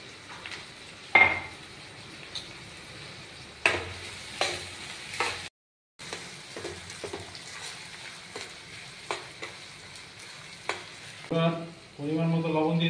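Green and dried chillies sizzle in hot oil for a chicken curry, with a spoon scraping and clattering against the pan in sharp intermittent knocks and a louder crackling burst near the end.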